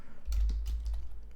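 Code being typed on a computer keyboard, a quick close flurry of key clicks over a low hum, with no talking.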